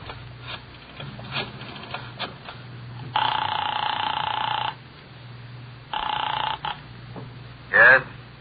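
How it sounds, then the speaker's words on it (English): Telephone in a radio drama, heard as a few faint dial clicks followed by two long electronic ringing tones separated by a pause, then a brief higher burst at the end. "I dialed the Kelsey residence."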